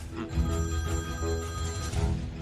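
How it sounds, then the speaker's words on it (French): A telephone rings with an incoming call in an office where an interrogation is under way, a steady electronic bell tone sounding continuously and fairly loud, with no voices. "un appel pour vous, de Corloudag"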